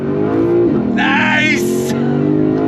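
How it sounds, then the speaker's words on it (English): Lexus RC F Track Edition with naturally aspirated V8 pulling hard from a standstill in Sport Plus mode, loud steady engine note climbing through the revs, with a brief higher whine in the middle. "we are gonna go on throttle from a dead stop"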